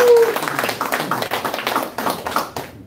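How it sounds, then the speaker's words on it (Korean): An audience at a wine school lecture claps to welcome the lecturer, a steady patter of applause that rises briefly near the start and then thins out gradually. "큰 박수로 모시겠습니다."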